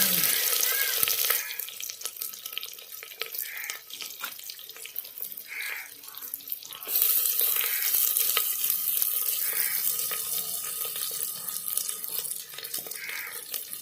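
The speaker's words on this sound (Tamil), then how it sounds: "இப்போ வெங்காயம் போட்டு தனியாக வதக்கணும், நல்லா வதக்கணும்." Onions frying in oil in a pan for Tamil-style mutton curry, giving a steady, close sizzle with occasional stirring clatter.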